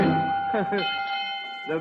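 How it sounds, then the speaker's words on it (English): On an old radio children's quiz show, a sustained bell rings clearly and steadily while someone talks over it. "that's the bell. Saved by the bell."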